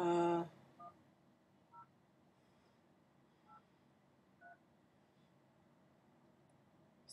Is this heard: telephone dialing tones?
yes